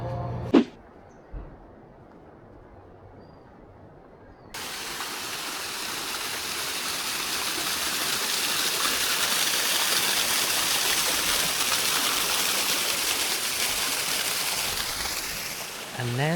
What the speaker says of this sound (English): And there's the waterfall from up close.